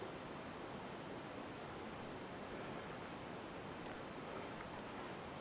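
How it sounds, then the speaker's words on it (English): A distant waterfall sends a soft, steady, even roar up to a walking track below huge rock ledges, faint and unbroken throughout, with no voices. "We can hear the waterfall in the distance."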